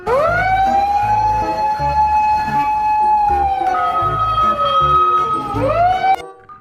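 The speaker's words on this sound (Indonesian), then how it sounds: "kalau yang ini mobil pemadam kebakaran. Ada tangganya teman-teman" A toy fire truck with a ladder: its siren wails loudly and steadily with a rising and falling electronic tone, ending abruptly after about six seconds.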